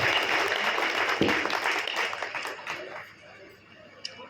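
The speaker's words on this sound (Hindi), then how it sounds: "मैं चाहूँगा जोरदार तालियों के साथ में हमारे भैया जी का स्वागत करें।" A crowd at a Diwali gathering honoring sanitation workers applauds with loud, dense clapping that gradually fades over the last second, ending in a single sharp tap.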